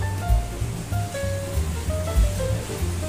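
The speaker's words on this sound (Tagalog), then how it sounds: "talagang kumukulo pa rin" Beef stew (nilagang baka) boils in a pot, a bubbling, sloshing roil with irregular low gurgles and bursts, heard close and alone.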